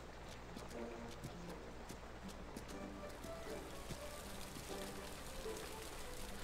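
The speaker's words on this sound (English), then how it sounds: "The rain can stop pretty suddenly." Rain falls in the farming video game Kynseed, a steady, dense hiss of drops on surfaces with scattered sharper patters running through the whole stretch.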